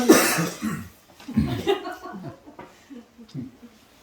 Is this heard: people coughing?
yes